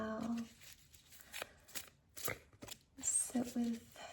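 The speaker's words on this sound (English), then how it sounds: "just shuffling the cards now." Tarot cards being shuffled by hand in short papery riffles and slides, soft and close, broken by brief pauses with a quiet voice murmuring in between.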